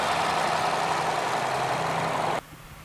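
A Nissan Altima's 2.5 liter I-4 engine runs at a steady idle, a constant hum and rush close by that cuts off abruptly near the end.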